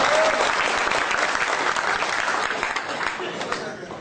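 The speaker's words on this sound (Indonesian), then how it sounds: "tepuk tangan buat Mas." Seminar audience applauding an Aqua depot deputy manager from Cirebon, a full burst of clapping that starts loud and gradually tapers off.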